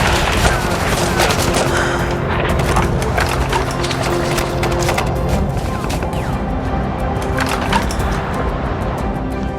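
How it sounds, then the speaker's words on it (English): Enemy gunfire in a reenactment of the 1999 Kargil war: dense, loud volleys of cracking shots and rattling bursts run continuously for nearly ten seconds, packed tightly with overlapping reports. "The enemy kept firing at us."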